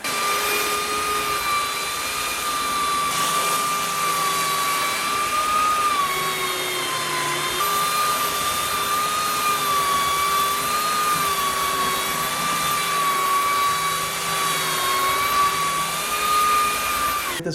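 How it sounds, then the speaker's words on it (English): Power sander working a rustic wooden countertop, a steady, loud whine with a droning motor tone that holds without pause, no talking. "It'll take a lot of sanding."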